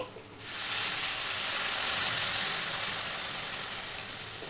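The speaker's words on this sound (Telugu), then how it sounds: "ఇప్పుడు ఇందులోకి చింతపులుపు నీళ్ళు వేసుకుంటున్నానండి" Tamarind water hits a hot pan for drumstick sambar, setting off a sudden loud sizzle that settles into a steady, bright hiss and slowly fades a little, with no talking.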